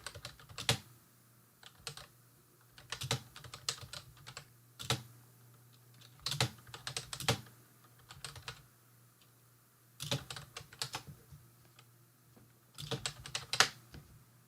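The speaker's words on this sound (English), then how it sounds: "Let me just type something real quick." Bursts of typing on a computer keyboard, close and quiet, with quick clusters of key clicks separated by short pauses over a faint steady hum, no voices.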